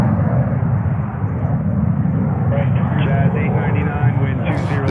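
A Boeing 787-9 Dreamliner passes at JFK airport, a loud low engine rumble filling the whole span and rising slightly toward the end, with speech heard over it.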